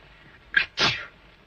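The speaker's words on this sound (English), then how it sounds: "My goodness, she sneezed." A girl sneezes once, a short sharp intake followed by a fuller burst, close and clear against a quiet room.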